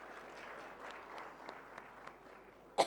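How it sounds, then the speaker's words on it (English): Audience applause at a technology conference talk on agentic AI for SRE and DevOps, a steady wash of clapping from a room of people at moderate level, ending with a sharper bump. "Can we have a big round of applause for Mr. Shiv Pratap?"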